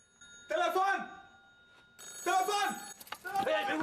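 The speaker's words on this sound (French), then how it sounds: "Vous n'avez pas entendu le téléphone sonner?" A telephone bell rings in two bright, metallic bursts separated by a pause. A voice cuts in briefly at the end.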